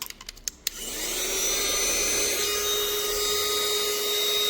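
A tiny cordless mini vacuum from Temu switches on after a few clicks and handling knocks, then runs as a continuous high-pitched whine with airy hiss, close and steady, alone without talk.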